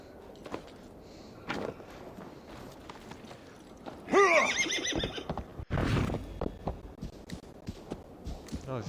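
A horse whinnies loudly in Assassin's Creed Valhalla, then snorts and neighs again, with hoof clip-clops and faint game-like background sounds around it.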